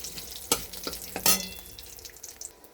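Fenugreek, fennel, cumin and radhuni seeds frying in hot oil as a tempering, crackling and popping in sharp bursts with a softer sizzle between, close and fairly quiet.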